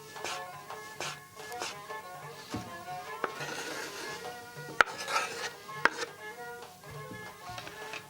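A knife chopping tomatoes into small slices, heard as faint, quick taps and rasping cuts against a board, with a couple of sharper knocks, under a quiet background hum.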